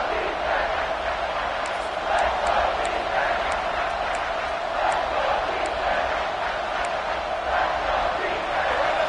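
A college football stadium crowd roars during a goal-to-go defensive stand, a dense, steady wall of cheering and shouting that swells slightly in waves and never drops out.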